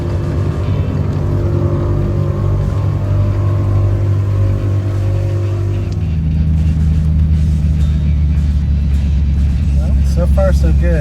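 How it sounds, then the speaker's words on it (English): A 1949 Ford Shoebox with air ride rolls slowly through a neighborhood, its engine a steady low rumble from inside the cabin while someone talks over it. "Just cruising through the neighborhood now, low speed, to see if I see anything else that needs addressing"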